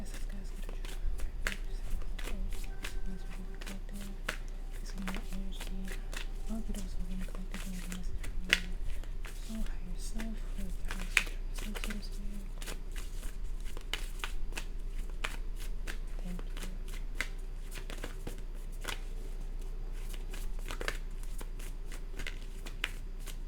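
Tarot cards shuffled for a reading, continuous crisp riffling and soft slaps of the deck close by, going on steadily for a long stretch over a low hum, with faint murmuring in the background.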